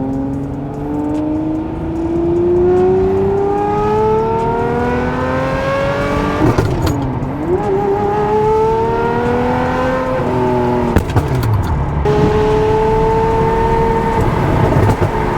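A Ferrari 599 V12 revs repeatedly after a cold start, loud and close, its engine note rising in long sweeps with sharp throttle blips and drops in between.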